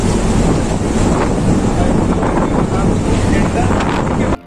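Loud, continuous roaring wind and crashing storm waves at sea during cyclone Tauktae, heard aboard a tugboat with heavy wind buffeting on the microphone, until the sound cuts off abruptly at the end.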